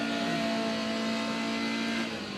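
Toyota AE86 engine in a sim racing game at the Nürburgring, revving at full throttle with a steady, strained mid-pitched drone close up, easing slightly at the very end.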